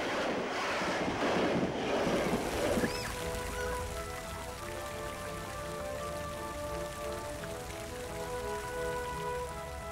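Water pouring and splashing from a public drinking fountain in Rome, a steady continuous rush heard close, with a louder burst of splashing at the start before it settles into an even flow.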